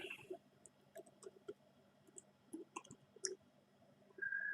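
Sparse keystrokes on a computer keyboard while typing a Google search in Chrome, quiet, close clicks spread irregularly over a faint room hum, with no talking.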